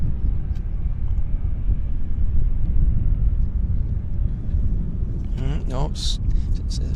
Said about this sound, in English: We got a Westjet taxiing out here.